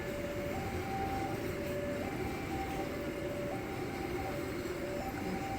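A steady, continuous rumble of a train rolling past a level crossing in Cirebon, Indonesia, with the crossing bell or signal tone repeating in a stepped pattern throughout.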